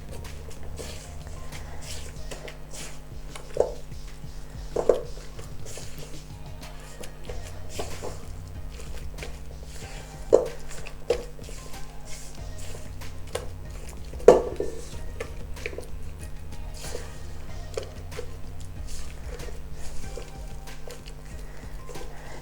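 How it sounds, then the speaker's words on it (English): Coconut, gluten-free flour and an egg being mixed in a bowl for a tropical pie, giving soft continuous scraping and stirring with occasional sharper clinks of a utensil against the bowl, fairly quiet throughout. "I'm just going to add a couple of spoonfuls of that and 1 egg. For the time being, and then I'm just going to mix that together."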